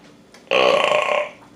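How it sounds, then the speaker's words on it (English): A loud, drawn-out burp lasting under a second erupts during a burrito mukbang, close to the mic, with a rough buzzing tone and no talk over it. "He's burping instead of me."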